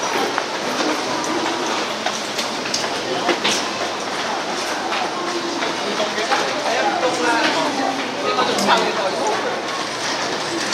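Subway train riding on rails, a loud continuous rumble with rhythmic clicking and occasional squeals, heard from inside the carriage with people talking over it.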